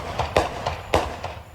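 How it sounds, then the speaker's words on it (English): Sharp, cracking reports ring out at night in a residential neighborhood, several uneven pops in quick succession with a slight echo, moderately distant. "Her neighbor says this gunfire won't stop."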